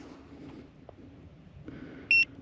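A budget fish finder's alarm gives a single short electronic beep near the end during ice fishing, clear over a low background hum.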